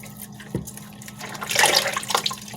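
Running water splashes as food is rinsed under a tap and handled, with a brief knock early on, then a louder burst of water and gurgling, close by.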